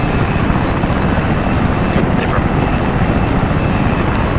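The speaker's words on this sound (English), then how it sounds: "helicopters taking off here so I can barely hear you" Helicopters taking off in the military game Arma 3, a loud, steady rotor and engine roar filling the whole stretch without a break, with a faint voice underneath.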